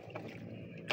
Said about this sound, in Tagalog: Yun may bangka parating